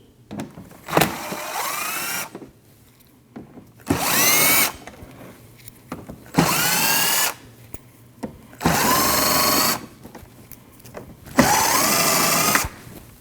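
A power tool backs out 7mm bolts holding the rear fender liner on a 2013-2019 Ford Escape, sounding in five loud whirring bursts of about a second each, separated by short pauses.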